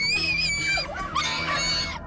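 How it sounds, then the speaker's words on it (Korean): Dogs on a walk let out shrill, scream-like yelps and high-pitched barks, close and loud, in two overlapping bursts with a wavering, whining pitch. "니네 또 왜 짖니?"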